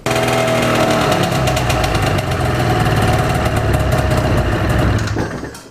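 A Ski-Doo 470 snowmobile engine, revived after storage, runs roughly as if firing on one cylinder, a loud close uneven drone that holds steady for several seconds and then drops away at the end.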